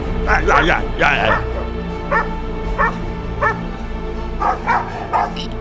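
Several dogs barking and yipping repeatedly at a moderate distance, with short bursts spaced about a second apart, over a steady background hum.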